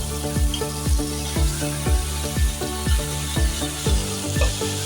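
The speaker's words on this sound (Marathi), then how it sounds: "छान परतवून घेऊया." Tomatoes, red and green chillies, cashews and coriander stems sautéed in a pan, a steady sizzle with rhythmic stirring strokes repeating about once a second, close and even.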